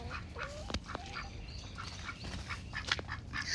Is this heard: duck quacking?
yes